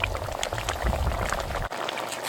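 A thick Caribbean curry seafood gravy simmers in a pot, giving a steady close bubbling and sputtering hiss that runs throughout, with a brief dip in the sound near the end.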